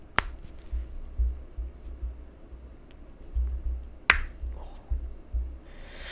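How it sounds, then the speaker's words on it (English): Two sharp, isolated cracks pop out over a faint rumbling background, like knuckles cracking close by, with soft handling noises in between. "I'm cracking my knuckles by the way, that's why sound is coming"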